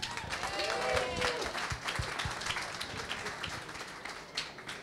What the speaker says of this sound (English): Let's get a round of applause and let's get some excitement going.